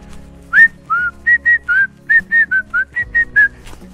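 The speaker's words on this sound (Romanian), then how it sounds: "Fluierăm, să nu vină ursul." People on an unmarked Carpathian mountain trail whistle loudly to scare off bears, a run of about a dozen short, even whistled notes in quick rhythm, close and clear with no talk.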